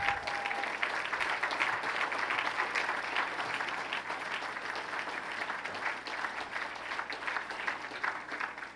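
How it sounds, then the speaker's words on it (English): Guests at a gala applaud award recipients, a continuous wash of clapping from a large crowd, even and sustained, heard at a low level throughout. "Please, a big round of applause for the governor and Susan Coleman for the Wendy Award"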